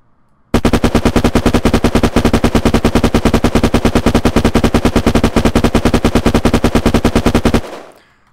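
Secondary machine gun in the game Unturned firing one long unbroken burst of 71 rapid shots, loud, close and evenly spaced. The burst stops abruptly and a short tail fades away, with no talk.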